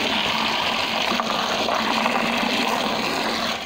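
Water spraying hard to flood a surface, a close steady gushing hiss that runs unbroken for a few seconds with no talking.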